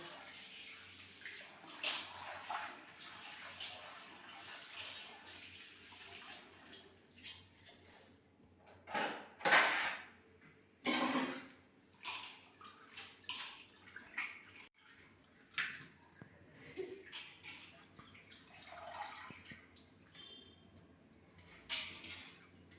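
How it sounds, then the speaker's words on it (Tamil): Chopped meat is washed by hand in water while cooking food for street dogs, making quiet, close, intermittent sloshing and splashing bursts with short pauses. "நல்லா கழுவி வச்சு கறியை"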